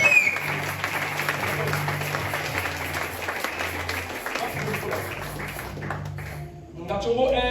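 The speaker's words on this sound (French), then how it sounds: "On acclame le Seigneur alors. Acclamez bien le Seigneur." Church congregation applauding and cheering in acclamation of the Lord, a continuous dense wash of clapping and crowd noise with a voice speaking over it, easing off near the end.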